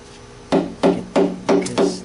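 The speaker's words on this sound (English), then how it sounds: "you just take your flathead screwdriver here, get the oil pan off" Five evenly spaced sharp knocks from a flathead screwdriver being tapped to pry a glued oil pan off a 7.3 PowerStroke diesel engine from a 2001 Ford E350, close and distinct with brief ringing tails.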